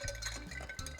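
Ice rattles and clinks inside a cocktail tin as the drink is stirred briskly, a close, steady run of small chiming knocks over a low background hum.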